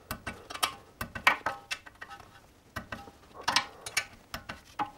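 A ratchet with a 10 mm socket snugs down bolts on a Suzuki Jimny steering knuckle, producing close, quick bursts of crisp clicking in uneven spurts with no talk.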